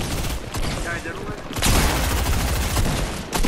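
Rapid gunfire from a video game shootout, loud, dense bursts of shots running through most of the moment, with a heavier volley in the second half, and players talking over it.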